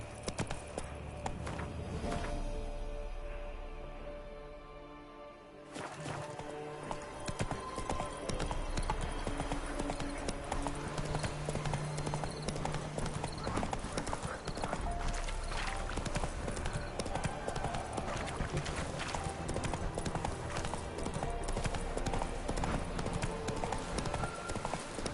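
Horse hooves clip-clopping in The Witcher 3, a steady trotting rhythm that carries on without a break over ambient game sound.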